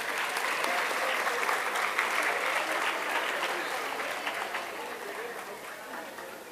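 An audience at a Solapur school environmental event gives loud, steady applause for local environmental organisations. The dense clapping fills the room throughout and fades slightly toward the end, with faint crowd murmur beneath it.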